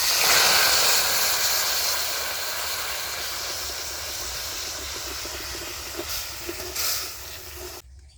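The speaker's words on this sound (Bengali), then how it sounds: "চিনিটা ভালো করে গলে গেছে, একটু জল দিয়ে দেবো।" Water poured onto melted sugar caramel in a pan for a homemade village-style cake, giving a loud burst of hissing steam that slowly fades over several seconds.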